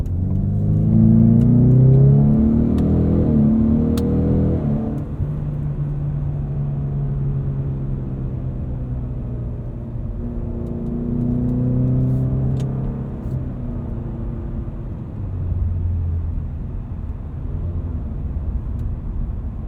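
A 2020 Ford Mustang EcoBoost with the High Performance Package accelerating on the road: a mid-pitched engine note rises through repeated revving pulls and gear changes, heard from inside the cabin with a steady rumble beneath.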